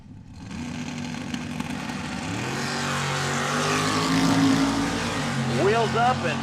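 Two F-body drag race cars at a drag strip, their engines droning low then rising as they launch, with a loud race announcer talking over the roar.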